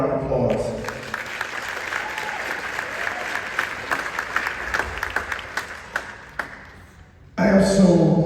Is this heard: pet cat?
no